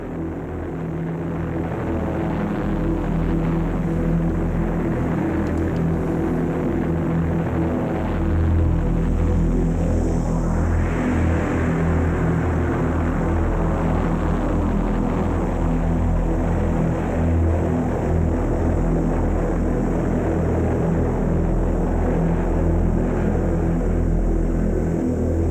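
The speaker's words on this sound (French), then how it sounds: "Alors que les bombardiers s'élancent sur la piste de décollage" Propeller bombers take off down the runway, their engines droning in a loud, steady, throbbing hum that swells slightly partway through, with no voices.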